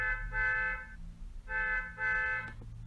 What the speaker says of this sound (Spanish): siento una bocina